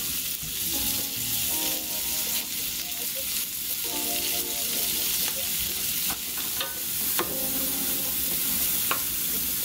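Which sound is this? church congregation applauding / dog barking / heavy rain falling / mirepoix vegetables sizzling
mirepoix vegetables sizzling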